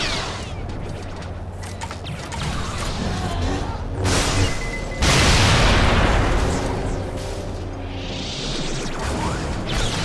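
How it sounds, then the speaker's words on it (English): A chameleon droid blowing up in Star Wars: The Clone Wars – Republic Heroes, a loud whooshing burst of explosion noise erupting midway over rumbling game action and lingering as a heavy roar. "When empty the droid is, explode it will"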